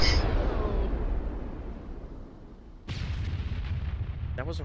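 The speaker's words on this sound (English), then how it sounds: "That was a rocket." A rocket fires during a military field training exercise: one loud, sudden blast cuts through a low rumbling background and leaves a rough roar trailing behind it. It sounds close.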